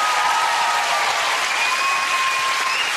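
A large audience claps steadily and loudly throughout, a dense, even wash of applause with no pauses.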